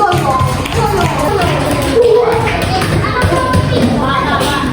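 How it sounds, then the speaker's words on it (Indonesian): A classroom group claps for a team of children, with quick irregular taps and claps under overlapping young voices and nearby chatter throughout. "Tepuk tangan untuk kelompoknya Azam"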